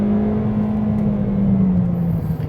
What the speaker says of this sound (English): you step on the car, you can hear there's quite a bit of noise